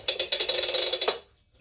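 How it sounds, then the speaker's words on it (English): The starter rope of a concrete saw being pulled out: a fast, close ratcheting whir of about a dozen rapid clicks lasting just over a second, then stopping abruptly into silence. "you test and you check the rope of the starter, that it's not damaged or broken"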